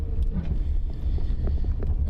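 Strong wind from a lake effect snow storm in St. Joseph, Michigan, buffeting the microphone as a steady low roar with gusty rumbling throughout, no voices.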